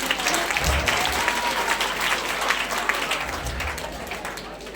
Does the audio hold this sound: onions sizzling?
no